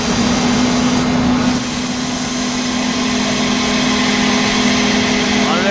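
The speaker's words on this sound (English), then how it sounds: "A lot of air being sucked in." Loud, constant broadband rush of air being drawn into an AC 45 LX air compressor, steady and close, with a firm low hum running beneath the hiss throughout.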